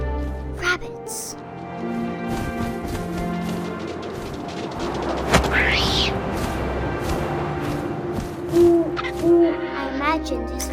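An owl hoots repeatedly in the game What Remains of Edith Finch, clear low calls near the end over a steady wind-like ambience and soft game music, with a narrator speaking throughout.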